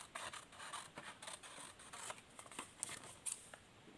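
Scissors snip through sheets of paper for a bird origami craft, a quick series of crisp, close cutting strokes in an uneven rhythm, faint and alone without talk.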